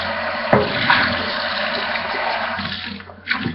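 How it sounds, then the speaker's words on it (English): Water runs steadily from a tap while a container is rinsed out, a close, continuous rushing splash that lasts throughout, with a couple of brief knocks. "So let me just rinse this out"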